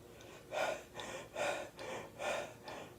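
A voice imitates students huffing and puffing: about six rhythmic, heavy breaths in quick succession, close and moderately loud, with no words.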